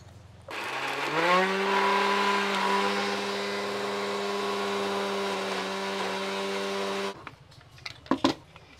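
An electric grinder blending chukor leaf chutney paste with garlic and salt runs loud and steady for about six seconds with a whining motor hum, then cuts off, followed by a few clattering knocks.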